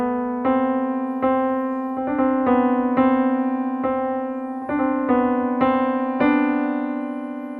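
A solo piano plays the right-hand phrase from a piece, with single sustained notes struck one at a time in a slow, even rhythm. The notes are clear and close and no one speaks.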